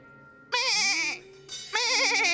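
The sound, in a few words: goat bleating imitated by a comedy performer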